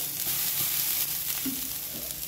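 Water splashed onto a hot griddle while making dosa hisses in a steady, close broadband sizzle that holds for the whole stretch with a few brief flares, no talking.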